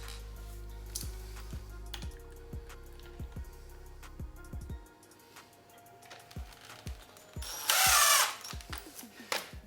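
A power drill runs in several short, close bursts as it drives screws into a plastic vent on a flat-pack reptile enclosure, with gaps and faint handling noise between the whirs.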